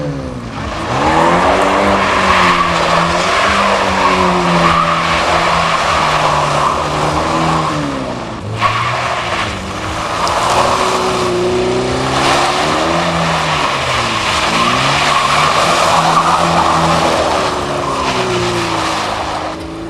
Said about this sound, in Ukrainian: Дистанцію проходять поодинці після сигналу судді, проявляють всю свою майстерність у фігурному водінні.